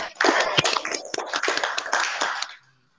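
Students in a classroom clap for a group presentation, a brisk ragged patter of hands lasting about two and a half seconds before stopping abruptly into quiet.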